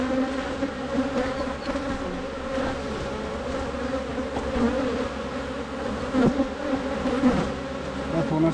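Honey bees swarm around a beehive with a dense, steady, droning buzz close by, unbroken and loud, with no voices.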